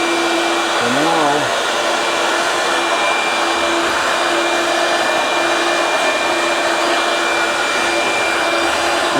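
A Dewalt DCV517 shop vacuum runs steadily and loudly up close, with a constant broadband roar and a steady motor whine throughout. A brief warbling tone rises and falls near the start.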